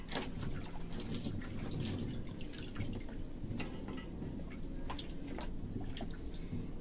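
Vegetables being washed in a large tub of water, a continuous close splashing and trickling with scattered drips and sloshes throughout, no talking.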